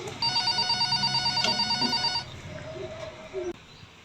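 Telephone bell ringing in a school drama about the Rengasdengklok event, a loud, rapid, trilling ring lasting about two seconds before it cuts off, followed by faint voices in the room.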